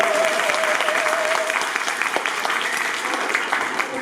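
Audience applause at a school's annual exam prize-giving ceremony, dense and steady clapping from a large crowd that holds at an even level throughout, with no speech over it.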